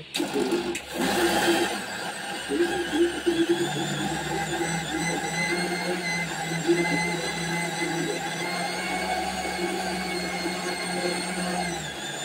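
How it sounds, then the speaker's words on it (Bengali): An electric blender whirs steadily as it blends homemade lassi, a loud, continuous motor drone with no talking over it. "এবার এটাকে ব্লেন্ড দিয়ে দিলাম, ঢাকনা দিয়ে দিলাম, চাপা দিয়ে দিলাম, অন করে দিয়েছি"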